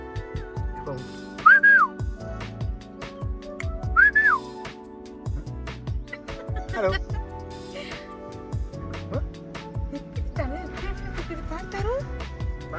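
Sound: person whistling to attract an animal at a safari park

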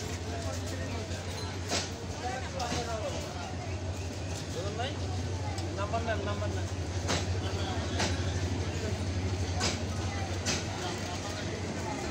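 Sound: fast powerful green train passing by

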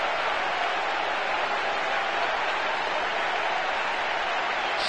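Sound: crowd cheering after a goal in a football video game

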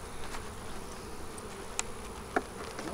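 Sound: honey bees buzzing in hive top

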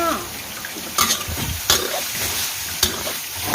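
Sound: pork stir-frying in a dry wok

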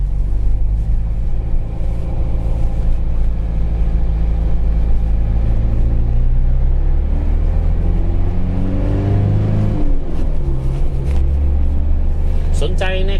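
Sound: 2004 Mazda Fighter pickup, 2500 cc engine, driving in second gear

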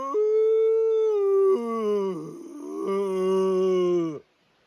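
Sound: man imitating a Bigfoot howl

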